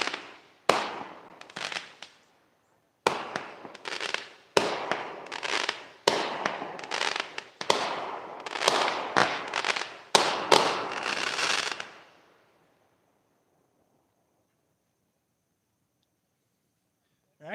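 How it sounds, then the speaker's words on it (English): Fireworks show bursting over Guist Creek Lake near Shelbyville, Kentucky: a rapid run of loud, sharp explosions and crackles, closely spaced and overlapping for about twelve seconds before fading into quiet. "Turn you around so you can see the fireworks show."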